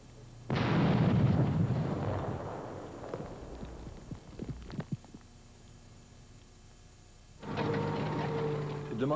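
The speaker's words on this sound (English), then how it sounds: "the giant Viper, a rocket-propelled explosive hose, the modern sapper's adaptation of the Bangalore torpedo" A Viper rocket-propelled explosive hose detonates in a minefield: a sudden loud blast that rumbles and decays over several seconds with scattered crackles, then a second heavy roar of explosion near the end.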